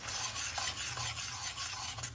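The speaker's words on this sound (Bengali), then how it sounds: "তবে পেস্টটাকে ভালোভাবে কষিয়ে নিচ্ছি।" Chili paste with chili flakes is stirred and fried in a pan for creamy pasta, giving off a close, rhythmic scraping and rubbing over a soft sizzling hiss.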